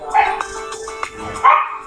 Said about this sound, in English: And dogs are deciding to act up.